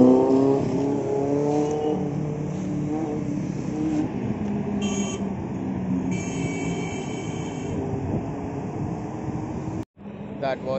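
A superbike accelerates on a Sunday road ride toward Khandala and Lonavla, its engine rising in pitch with a strong steady roar and a loud rush of wind noise, close and sustained.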